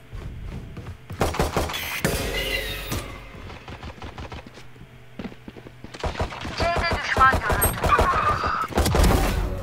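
Video game gunfire crackles in quick bursts of sharp, close shots alongside thuds and clinks, with brief speech mixed in.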